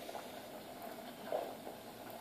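Ghee bubbles and sizzles in a pot over heat just below medium, a soft, steady, faint and continuous simmer, with a slightly louder pop partway through.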